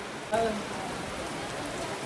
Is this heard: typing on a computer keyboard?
no